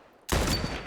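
A loud burst of rapid gunfire from the video game The Last of Us bursts in abruptly and keeps going steadily, sharp and close, with no voices.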